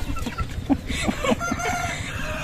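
Chickens at a Thai home cluck and crow in a quick, close series of short calls over a busy, noisy farmyard background.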